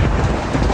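Rain and thunder roll together in a brief, loud, dense wash of low rumble with steady rainfall, with no one talking.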